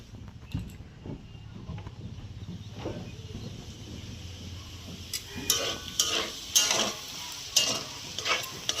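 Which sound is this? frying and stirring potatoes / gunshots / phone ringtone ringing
frying and stirring potatoes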